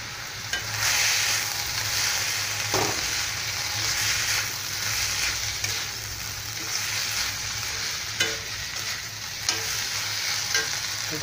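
Tomato sauce, vinegar and soy sauce sizzle in a hot pan for chicken triple Schezwan rice, a continuous loud frying hiss with occasional scrapes of stirring.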